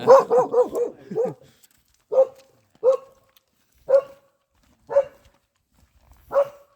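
A quick run of barks followed by single barks spaced about a second apart, moderately near with quiet between them.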